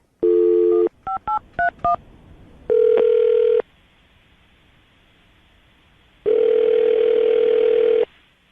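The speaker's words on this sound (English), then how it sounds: "I'm going to dial the phone number" Touch-tone beeps dial a phone number in a quick series of short tones, with longer steady tones between, loud and close.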